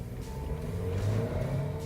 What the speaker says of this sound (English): Now we're going to do a standing start.